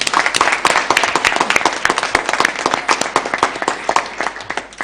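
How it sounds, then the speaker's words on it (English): An audience at a Kenyan moot court competition claps for the winners of a moot question, producing a loud, sustained round of dense, irregular clapping that carries on for several seconds. "Kindly let's clap for them."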